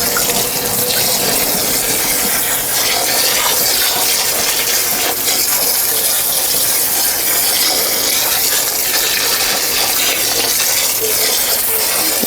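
Water pours steadily into a potted ficus being repotted indoors, a continuous close splashing and trickling gush that fills the whole stretch without pause, with no talking.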